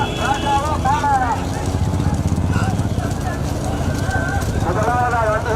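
Racing bullocks gallop in a bullock cart race, a dense rapid pounding of hooves under continuous loud commentary and crowd noise, with a voice talking throughout.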